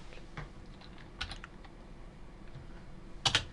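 Typing on a computer keyboard, a few sparse, separate keystrokes, close and fairly quiet, with a quick cluster of clicks near the end.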